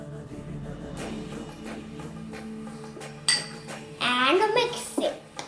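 Lemon juice, salt and red chili stirred together in a dish, with soft clinks and scrapes of a spoon against the bowl and a brief sharper knock, heard faintly under background voices in a school kitchen setting.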